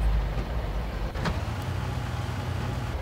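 Car engine in the Far Cry video game, a steady low rumble with a brief mechanical whine partway through, running continuously at moderate loudness with no talking.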